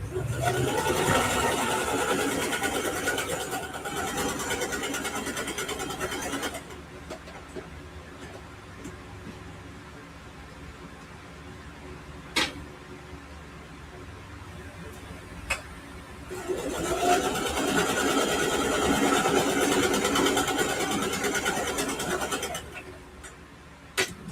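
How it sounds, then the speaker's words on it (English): A home sewing machine stitches straight rows on quilted ruffle backpack fabric, its steady motor hum running in two long bursts with a quieter pause between, a few faint ticks and clicks in the gap. "So I'm just going to sew down straight, just like I did on the other part, and I'm going to also sew 2 rows."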